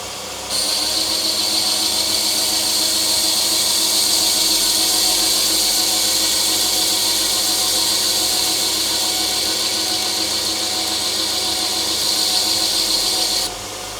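A power tool whirs steadily, loud and close, while sandpapering the edges of a ferrule on a Callaway golf iron, starting and stopping abruptly with no talk.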